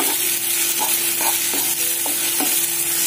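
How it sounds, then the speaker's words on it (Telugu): Ginger garlic paste frying in a pan for egg curry with drumstick, a loud steady sizzle close up with a few soft stirring scrapes and no talking. "జింజర్ గార్లిక్ పేస్ట్ వేసుకుందాము ఒక టేబుల్ స్పూను సరిపోతుంది ఇప్పుడు దీన్ని మనము పచ్చివాసన పోయే వరకు బాగా ఫ్రై చేసుకుందాం"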